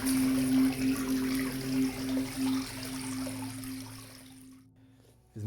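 Water runs steadily through an underground bunker tunnel of the Oder-Warthe-Bogen fortress front, 40 metres below ground, a broad echoing rush with a low hum beneath it that fades out near the end.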